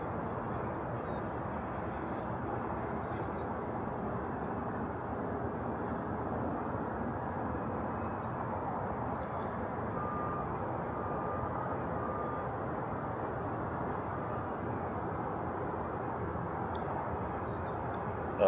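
An airliner doing a go-around at Honolulu airport makes a steady, distant broadband roar of jet engines that holds even and unbroken throughout, with no talking.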